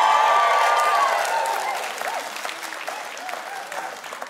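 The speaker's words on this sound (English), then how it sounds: "you've no idea what you might be getting, and yet you clap." A studio audience at a live television talk show claps, a dense burst of applause that is loud at first and then thins and fades while someone speaks over it.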